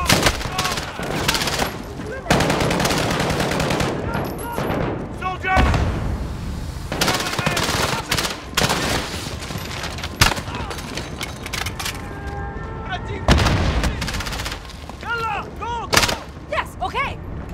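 Rapid bursts of MP7 submachine gun hip fire in Call of Duty: Modern Warfare, with loud repeated volleys and booming impacts across the clip and a player talking between the shots.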